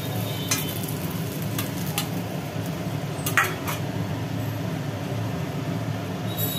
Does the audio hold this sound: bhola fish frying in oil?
yes